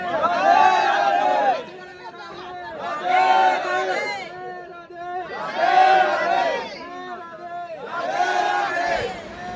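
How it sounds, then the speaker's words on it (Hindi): A large crowd of pilgrims queuing at a Vrindavan temple, many voices rising together in loud repeated surges of shouting and chanting, with brief quieter gaps between the waves of sound. "आगे आकर के देखने पर लगा है कि काफ़ी भीड़ है।"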